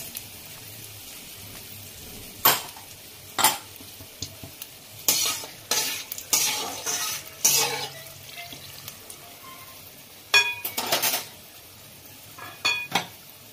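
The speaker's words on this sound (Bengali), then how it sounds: "এরপরে দিচ্ছি তেজপাতা আর গোটা শুকনো লঙ্কা।" Bay leaves and whole dried red chillies frying in oil along with cinnamon, cardamom and cloves, a low sizzle broken by repeated sharp clinks and scrapes of a spoon stirring against the metal pan.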